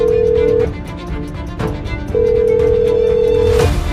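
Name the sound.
telephone ringing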